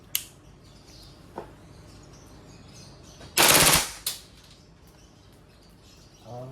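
WE Airsoft M4 RIS V3 gas blowback rifle firing on full auto, a single loud burst of rapid shots lasting about half a second, set apart by a few isolated single pops before and after.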